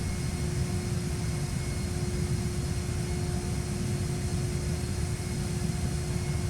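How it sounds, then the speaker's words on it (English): An aircraft taxis in Microsoft Flight Simulator, a steady droning engine hum with a constant whine running unbroken and even throughout, no voices over it. "Aircraft taxiing."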